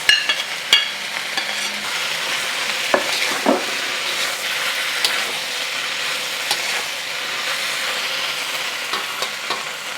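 Beef and its juices hit a hot pan with a cornstarch-thickened sauce, giving a steady close sizzle and frying hiss with occasional stirring scrapes and clicks, no voices.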